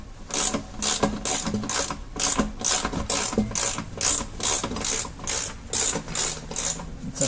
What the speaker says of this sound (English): Use a 9/16 wrench to take the nut off.